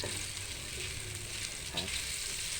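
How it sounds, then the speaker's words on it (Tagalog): Crab sticks frying and being stirred in a pan for a udon noodle dish, a steady close sizzle with a brief scrape of stirring and no talk. "ibuhos na po natin ang isang pack na crab stick."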